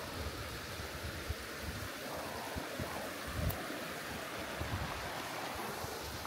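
Water flowing beneath a wire footbridge on a sunny day's walk, a steady rushing wash heard outdoors with some wind noise and a few soft bumps, no talk over it.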